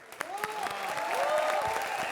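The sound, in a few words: audience applause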